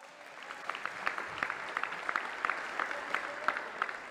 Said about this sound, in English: The people clapping are the ones who work there.